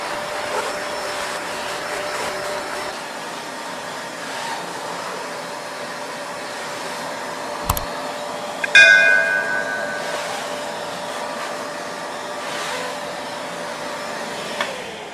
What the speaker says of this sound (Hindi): इसको मैं ये वैक्यूम में क्लीन करके आपको दिखाऊंगा